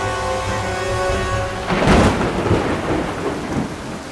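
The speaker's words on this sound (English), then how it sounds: "The rain." Steady rain hisses over a low droning hum, then a rolling crash of thunder swells up and keeps rumbling beneath the downpour.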